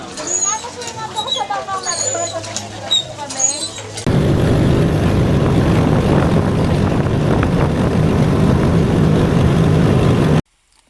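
A steady boat motor drone rumbles loudly for several seconds after a stretch of chatter and background noise, then cuts off abruptly.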